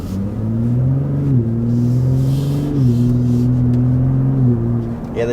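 A 2023 Ford F-150 Raptor with a 10-speed transmission accelerating, its engine droning steadily from inside the cab and climbing in pitch, with several quick gear shifts briefly dipping the tone.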